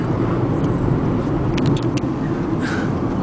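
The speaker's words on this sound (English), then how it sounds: "there's a car coming." A car approaches along a road, its steady broadband rumble and tyre noise filling the whole stretch at a fairly loud, even level, with no voices.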